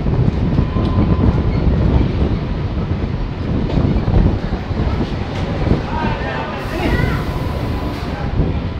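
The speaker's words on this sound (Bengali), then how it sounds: "এই যে এটা গোড্ডা শিয়ালদা মেমু" Godda–Sealdah MEMU train running past on a single-line route, a loud continuous rumble with wheel clatter and wind buffeting the microphone throughout.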